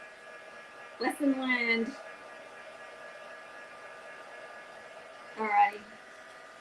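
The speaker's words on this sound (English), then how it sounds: "We need that heat gun." Heat gun blowing a steady hot-air hiss to dry card stock for Stampin' Up! card making, constant and close throughout, while a person speaks briefly over it twice.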